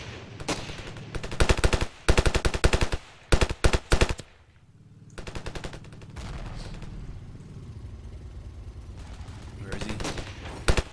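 Rapid automatic gunfire rattles in repeated bursts during a Ravenfield battle, with short pauses and a lower rumbling stretch midway, and faint talk beneath the shots.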